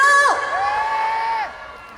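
A crowd at a local event in Hoengseong shouts a cheer together in one loud, drawn-out call that rises and falls before fading, with no talk over it.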